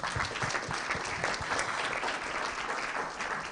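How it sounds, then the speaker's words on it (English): Dense, steady applause from a conference audience at a sustainability event, full and continuous throughout with no talk over it. "I'm loving the spontaneous applause"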